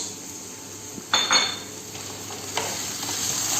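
Potatoes and peas sizzle in a hot pan as they are stirred, with a few loud scraping clanks of a utensil against metal over a steady frying hiss.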